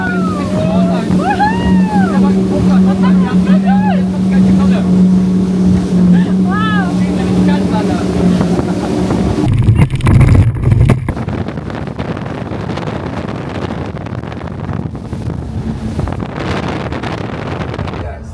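Brabus Shadow 900 motorboat running on open water near Dubai, a loud engine drone with rising and falling whines, then heavy wind buffeting and spray as it passes close by.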